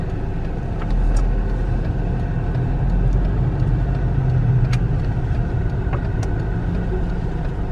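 Steady low rumble of a car driving on the road home from shopping, heard from inside the cabin, continuous and moderately loud with no talking.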